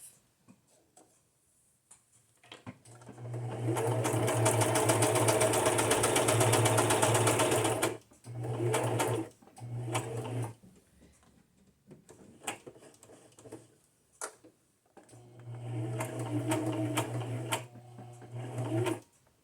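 A sewing machine stitches journal cards for a junk journal, a steady close mechanical whir with a low hum that runs for several seconds, then stops and starts in shorter bursts with clicks between.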